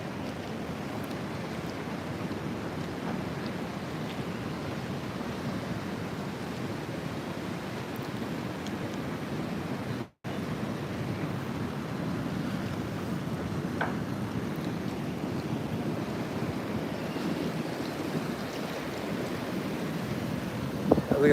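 Steady roar of ocean surf under a winter swell, waves breaking continuously at a distance with gusty wind buffeting the microphone, holding an even loudness throughout with a brief dropout midway.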